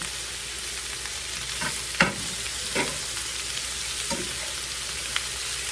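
Cabbage frying in a skillet, a constant hissing sizzle with occasional crackles and pops of splattering grease, plus a few brief stirring clinks.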